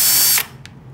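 A power tool whirs loudly for a short burst while removing parts from a Rosewill ATX full tower computer case, then cuts off, followed by a faint click.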